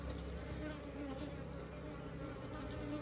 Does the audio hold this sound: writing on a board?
no